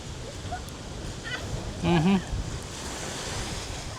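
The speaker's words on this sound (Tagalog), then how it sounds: "Kasi mahangin ngayon eh." Steady wind rushes and buffets the microphone in a low continuous roar at a resort in Mactan, Cebu, with a brief burst of voice in the middle.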